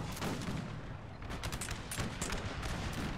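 Cannon canister shot in the Napoleonic era strategy game Napoleon: Total War, a dense stretch of rolling gunfire and crackling volleys, distant and steady, with no talking.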